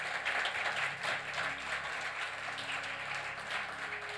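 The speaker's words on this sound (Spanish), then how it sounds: "Ahora sí le voy a pedir que le dé un aplauso al Señor." A church congregation applauds during a sermon, steady diffuse clapping that carries evenly throughout at a moderate distance, with no talking over it.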